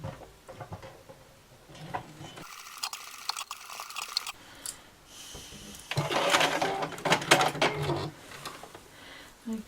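Sewing machine stitching a fabric cutlery pouch, running in short bursts of rapid, close mechanical chatter separated by pauses and quieter handling noises.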